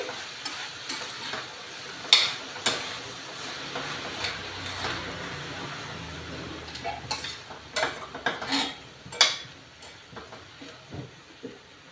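A spoon stirs capsicum and tomato curry in a pan, giving repeated scraping clinks and soft sizzling close by, with no talking.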